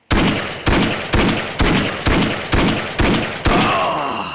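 Seven loud, evenly spaced gunshots from a weapon in the first-person shooter Counter-Strike, each a sharp crack with a booming decay, fired in steady succession up close, the last ringing out longest.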